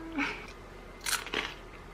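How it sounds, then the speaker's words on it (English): Two quick, crisp crunches of a vegan meat substitute being bitten up close, following a short murmur, then quiet. "Oh, that was a really good one. Crunchy. Like a chip."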